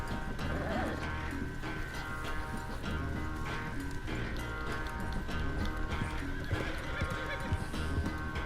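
Horse hooves clip-clop steadily while a horse whinnies and snorts in Red Dead Redemption 2, set against a constant layered background of game music and ambience.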